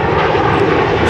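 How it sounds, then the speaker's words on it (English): A fixed-wing airplane passes overhead near a Los Angeles construction site, its engine a loud, steady, broadband roar that fills the whole moment with no talk over it. "I hear an airplane."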